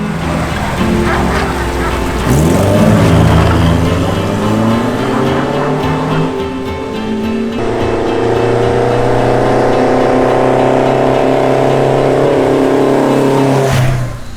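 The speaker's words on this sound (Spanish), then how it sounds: "cuando voy conduciendo este coche" An Opel GT sports car is driven at speed, its engine loud and close, rising and shifting through revs with gear changes and a steady droning roar throughout.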